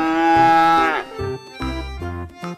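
A large Australian cow moos loudly and close while being loaded onto a truck, one long low call followed by a few shorter moos, with no talking.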